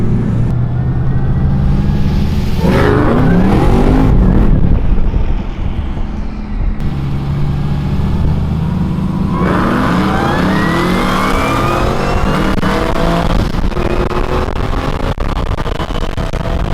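A 2012 Holden VE Maloo ute making 814 horsepower accelerates hard in a roll race, its loud engine climbing through rising gear sweeps with shifts and sustained roaring at close range.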